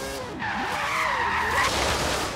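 A drifting car squeals its tires in a long, loud wavering skid with engine roar underneath, rising and holding steady close by.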